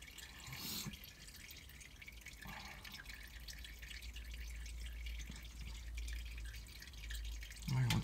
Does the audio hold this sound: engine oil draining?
yes